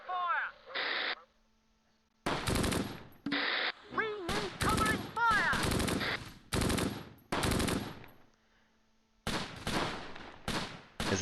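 Sharp machine gun bursts from a Bren section crackle in repeated clusters during a World War II battle in the strategy game Close Combat: Gateway to Caen, set on the Fontenay-Caen road, with short radio-style voice lines between them.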